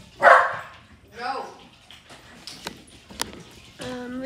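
Dogs just let outside bark indoors: a loud close bark, then fainter barks and yips, with thuds and a person talking nearby.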